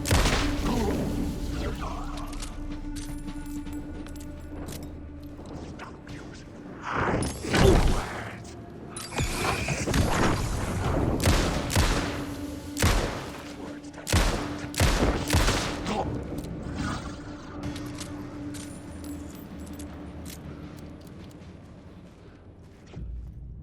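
Gunfire from the video game Alan Wake 2 rings out in sharp bursts of loud shots, some clustered in quick volleys and others spaced apart, with a steady hum and game sounds underneath.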